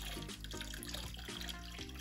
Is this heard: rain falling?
no